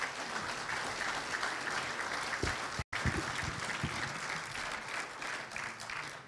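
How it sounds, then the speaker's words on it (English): Applause from a church congregation: steady clapping from a modest crowd, broken by a brief gap, with a few louder claps and murmurs underneath. "Give him a round of applause."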